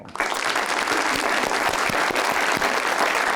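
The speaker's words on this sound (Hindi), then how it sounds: "अब ये तो दोनों के लिए है ताली" Studio audience on the Gup Shab talk show breaks into steady, dense applause that starts abruptly and holds at full strength, close and loud with no talk over it.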